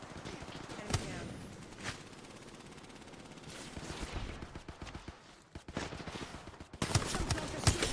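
Gunfire in an Apex Legends battle royale match, heard fairly quietly: separate sharp shots spaced several seconds apart, then a rapid flurry of bursts near the end.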